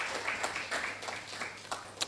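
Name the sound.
audience applause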